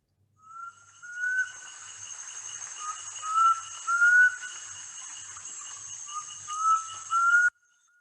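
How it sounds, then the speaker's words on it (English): A black cuckoo's clear whistled call repeats in short rising phrases, faint and fairly distant, over a quiet background with a soft steady hiss. "You have the black cuckoo, which parasitizes a lot of bush shrikes, again with a really beautiful call."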